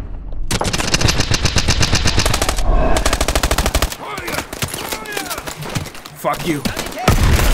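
Rapid automatic gunfire from a weapon in Call of Duty Advanced Warfare rattles in dense, loud, sustained bursts with brief gaps, mixed with game effects, and a voice speaks briefly over the shooting.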